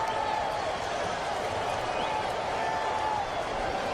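Artificial stadium crowd noise plays as a steady, dense roar of murmuring fans behind a Cubs vs Mariners baseball watch party, constant and fairly loud throughout without distinct peaks.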